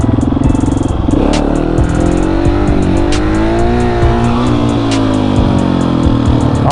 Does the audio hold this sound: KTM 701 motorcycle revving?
yes